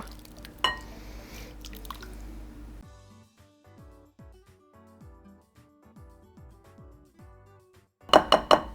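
Wet and dry carrot muffin mixtures are folded together in a bowl: soft squishy stirring and wet smacks, with sharp clinks of a utensil against the bowl at the start and in a quick cluster at the end.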